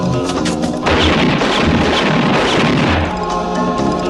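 Loud burst of gunfire and crashing impacts from the zombie film Hell of the Living Dead, a sharp onset followed by dense overlapping blasts that cut off abruptly, with no speech.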